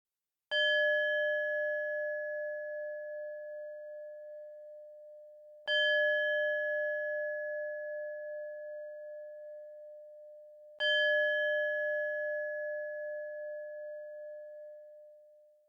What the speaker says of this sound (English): I'll ring my singing bowl, and on the third chime, you can gently open your eyes